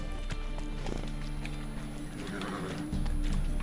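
Rhythmic clip-clop of a horse galloping in The Witcher 3 video game, steady repeated hoofbeats at moderate volume with a faint whinny, briefly under quiet talk.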